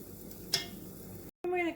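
Corn and sausage buttermilk pancake batter cooks on a hot burner with a quiet steady sizzle, a brief scrape of a utensil, then a short cut to silence before the sizzle returns.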